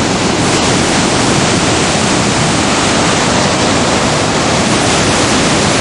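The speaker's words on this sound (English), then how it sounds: "the amount of water that comes out of this reservoir and flows down the Capilano River out to Burrard Inlet" Water released from the Capilano Reservoir rushes down the Capilano Canyon toward the river, a dense, loud, unbroken roar of churning flow that stays constant throughout with no voices over it.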